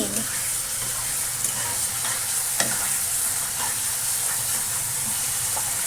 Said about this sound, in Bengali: আমি প্রচন্ড পরিমাণে চিকেন কষাই